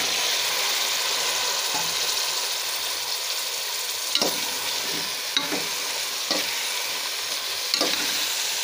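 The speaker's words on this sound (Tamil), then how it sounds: "நம்ம வந்து கட் பண்ணியிருக்க காயெல்லாம் சேர்த்து நல்லா வதக்கி எடுத்துக்கலாம்" Cut vegetables for vegetable rice sizzle steadily in a hot pan as they are sautéed, a close continuous frying hiss broken by a few sharp scrapes and clicks from stirring.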